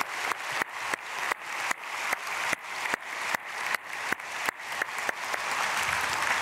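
Church congregation applauding in unison, sharp evenly spaced claps in a steady rhythm, about a dozen strong beats before dissolving into a continuous patter of clapping.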